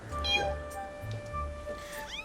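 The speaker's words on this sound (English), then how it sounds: "Hello there, kitty cat." In-game cat in The Legend of Zelda: Skyward Sword gives a few short, close meows, with light game music or tones running beneath.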